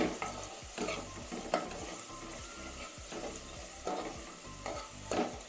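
Mutton keema with ginger garlic paste stirred in a hot pan, steady loud sizzling under repeated scraping strokes of a spoon, roughly one every second, close up with no talking.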